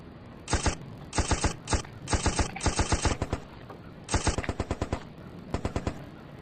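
Machine gun fire in a comedy skit comes in rapid, loud bursts of sharp shots, several separate volleys with short pauses between them and no talk.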